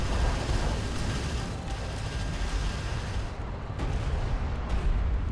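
Battle in the Homeworld: Deserts of Kharak strategy game: artillery and gunfire rumble as a dense, continuous barrage, heavy and low, with a few sharper reports standing out near the end.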